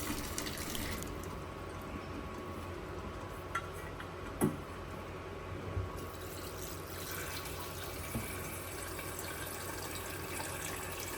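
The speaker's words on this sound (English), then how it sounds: "drain the boiling water and add fresh water to continue boiling" Water pours out of a cooking pot as boiling water is drained and fresh water runs in, a steady broadband rush in a small home kitchen with a few faint clicks and taps, no voices.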